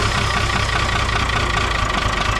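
The diesel engine of a 1975 squarebody truck runs steadily at idle with a rough, knocking rumble, loud and close to the engine bay, with no talking.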